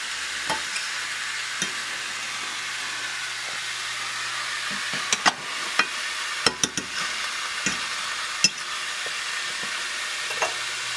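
Steak sears in a skillet over medium-high heat, giving a steady close sizzle with scattered sharp ticks and pops and no voices.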